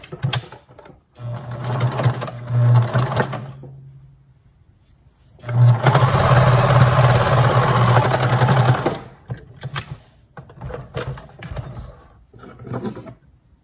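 A sewing machine stitches a fabric mask in two bursts, a close, steady mechanical whir with a rapid needle rhythm, separated by pauses and quiet handling noises.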